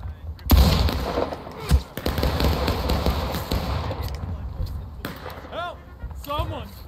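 Musket gunfire from a War of Rights Civil War battle game, with a loud shot followed by scattered firing and distant pops during independent fire, under steady battle noise while people talk.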